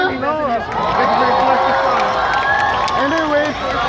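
Crowd at a Japanese festival cheering after a performance: dense, steady hubbub of voices and cheers throughout, with individual voices rising and falling above the roar.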